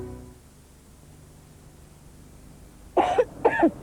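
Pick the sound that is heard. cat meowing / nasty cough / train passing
nasty cough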